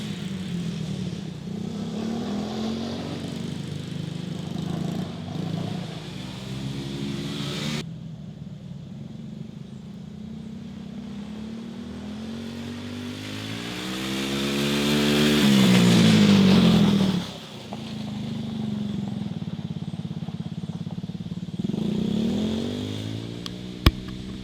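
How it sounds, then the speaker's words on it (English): Kids riding four-wheeler quads on a farm, small engines droning steadily and revving up and down as they pass, swelling louder nearby around the middle before dropping off, then climbing again. "sound of kids driving four-wheelers."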